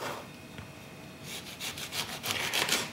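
A serrated knife saws the ends off an orange with quick, rhythmic rasping strokes that start soft and grow louder and closer.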